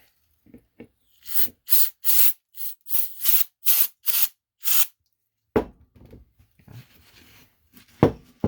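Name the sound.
aerosol brake cleaner spraying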